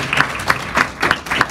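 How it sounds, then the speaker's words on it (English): An audience at a tribute event for a long-serving professor claps in loud, rhythmic bursts, one roughly every third of a second, close and even in strength. "That deserves a huge clap."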